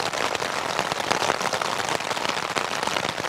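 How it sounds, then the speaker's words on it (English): Rain falls straight down onto a high-pitched camping tent during wild camping in the Lake District. The pattering is steady, dense and soft, with many fine drops and no wind. "The rain is pretty much coming"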